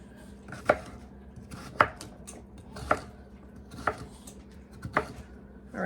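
A knife chopping sweet potato on a cutting board for a sheet pan meal: five evenly spaced, crisp, close thunks about a second apart, with faint kitchen clatter between.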